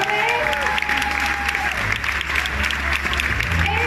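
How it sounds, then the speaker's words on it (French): An audience at a restaurant awards ceremony in honour of chef Guy Savoy breaks into loud, sustained applause that fills the whole stretch, dense and even, with a voice faintly audible underneath. "Mesdames et messieurs, nous applaudissons Monsieur Guy Savoy."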